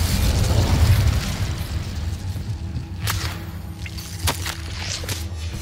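A fire spell in Hogwarts Legacy bursts with a whooshing, booming blast that fades, followed by a couple of sharp cracking pops in the game's sound.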